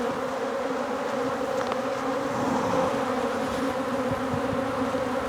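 Angry honeybees swarm around an opened hive, a dense continuous buzzing from many insects close by, steady and loud with no voices.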